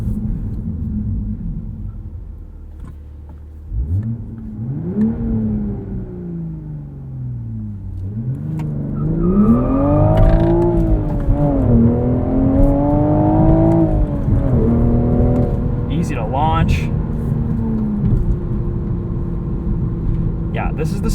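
A 2023 Toyota GR Supra 3.0 with a manual gearbox driving, its engine rising and falling through repeated revs and gear changes, loud and close from inside the cabin, with a voice talking over parts of it.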